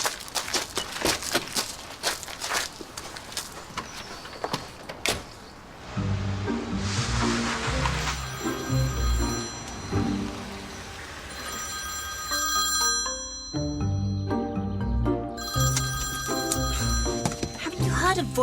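A telephone bell rings in a home during a television drama scene, repeated ringing phrases that come over and between people talking.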